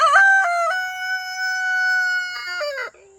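Chickens vocalizing from inside a coop where broody hens sit on a clutch of eggs, one drawn-out harmonic call held for a few seconds with a couple of short notes at start and end, close and fairly loud.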